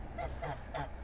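Three short honks from domestic geese chasing ducks, in quick succession, moderately loud over a low background rumble.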